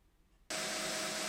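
A belt grinder running a coarse 36 grit belt bites into a steel knife tang under heavy pressure, tapering it; after a quiet start the harsh, steady grinding roar cuts in abruptly and holds loud and constant.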